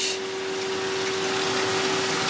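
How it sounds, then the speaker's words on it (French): A swimming pool filtration pump runs with a steady, loud mechanical hum and rushing water, holding an even drone from start to finish after a brief hiss at the beginning. "On va mettre sur filtration."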